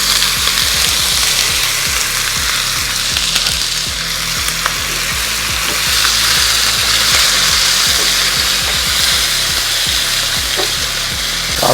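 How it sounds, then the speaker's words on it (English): Cubed Angus steak stir-frying in a pan with caramelized sugar: loud, continuous close-up sizzling with a rapid rattling crackle throughout and occasional stirring scrapes, no voices. "let it stir fry at least for 5 minutes"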